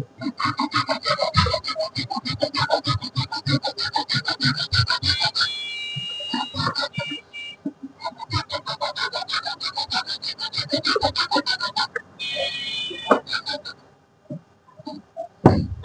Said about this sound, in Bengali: আস্তে আস্তে ঘষতে হবে এবং ঘুরাইতে হবে